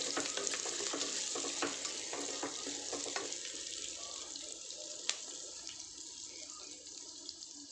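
Green peas and carrots cook in an oily pan for biryani, giving a steady, close, hissing sizzle with light clicks of stirring that fade slightly as the cooking goes on.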